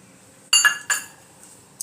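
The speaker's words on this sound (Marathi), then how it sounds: "मिक्सरचं भांडं घेते, त्यामध्ये टोमॅटो टाकून घ्यायचा" A metal mixer jar is handled in a home kitchen as tomato goes in, giving a few sharp, bright clinks and knocks close by, separated by short pauses in an otherwise quiet room.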